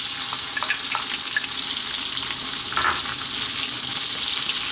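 Onion frying in a pan of oil with cumin seeds and green cardamom pods on above-medium heat, a loud, constant hissing sizzle with faint crackles and a soft stir near the middle.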